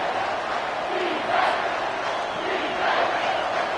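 A home crowd at an SMU v USC college football game roars in a sustained, loud wave of cheering and yelling that swells slightly in places.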